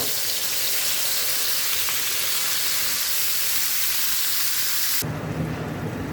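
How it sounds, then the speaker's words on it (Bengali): Chicken pieces for morog polao are lightly fried in hot oil, producing a loud, dense, rain-like sizzle that holds steady for several seconds before suddenly dropping away near the end. "দিয়ে দিলাম তেল, গরম হয়ে গেছে। এখন দিয়ে দিব পিসগুলো। এগুলো আমি হালকা ভেজে নিব।"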